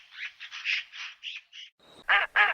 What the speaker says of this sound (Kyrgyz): Утка кряква, өрдөктөр.